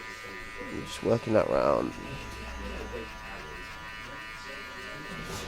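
Electric hair clippers with a closed 0.5 guard tapering a man's neckline at a barbershop, buzzing steadily and close under a barber's quiet talk, with a louder buzz burst in the middle.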